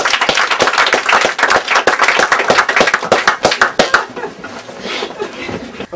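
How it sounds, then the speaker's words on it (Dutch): An audience at an open-stage evening of performances breaks into dense, lively applause for the performers. The clapping is close and loud, then thins out and fades toward the end. "mag ik applaus voor Renato Miguel en Anne van Winkelhof."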